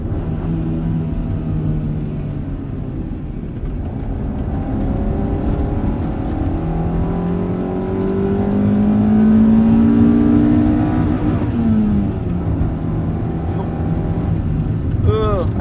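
Honda Civic Si from the golden-era generations driven hard, its engine revving up and down in steady sweeps that swell loudest near the middle, over a constant road rumble.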